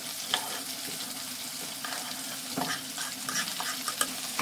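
Chopped onion sizzles and fries with browned meat in a pot, a soft steady hiss with occasional scraping stirs, close but low in level and with no talk.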